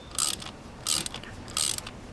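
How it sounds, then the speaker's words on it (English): A thread insert applicator is cranked into an injector holding bolt thread during repair, giving three evenly spaced bursts of crisp metallic ratcheting clicks, each about a third of a second long, close and clear. "Now we'll keep operating the applicator"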